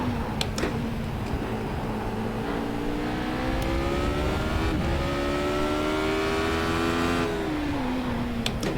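A Radical SR8 race car engine in a racing game at Road America, revving high and steady as it climbs through the rev range, then easing off near the end, loud and continuous with a few faint clicks over it.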